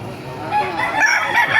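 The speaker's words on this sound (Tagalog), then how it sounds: "papakita ko sa inyo mga manok sa Baliwag" Several roosters crow over one another at close range at a chicken market in Baliuag, Bulacan, with clucking fowl around them in a brief, busy burst.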